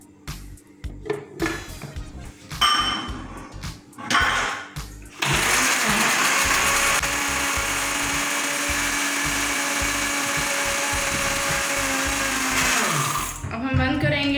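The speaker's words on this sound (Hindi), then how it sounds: "और फिर इसको ब्लेंड करेंगे" Blender whirring through an egg white mixture for homemade shawarma sauce, a steady loud motor drone running about eight seconds after some clattering kitchen sounds, then cutting off.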